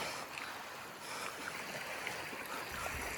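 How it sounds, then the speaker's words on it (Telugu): Waves wash against the water's edge beside a fishing boat among hills, a faint, steady rushing and lapping with no talk. "అలలు వస్తున్నాయి."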